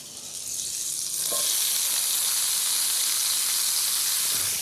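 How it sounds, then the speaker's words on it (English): A knob of butter hits a hot pan and bursts into a bright, loud sizzle that swells within the first second, then holds as a steady close hiss. "A little knob of butter, OK? Into the pan."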